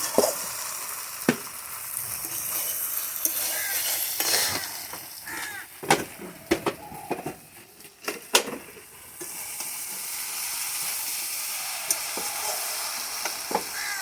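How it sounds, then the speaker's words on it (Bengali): Dried fish ghet (shutki) is stir-fried in a pan, with steady sizzling broken by a run of sharp scraping stirs midway before the hiss settles back. "বন্ধুরা দেখো আমি খুব মনোযোগ দিয়ে কষাচ্ছি"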